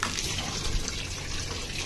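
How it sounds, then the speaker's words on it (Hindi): Water runs from a tap into a washing machine in a steady gushing stream, loud and continuous from start to finish, with no voices over it. "इधर से मैं पानी चलाऊंगा और थोड़ा अंदर पानी डालते हैं"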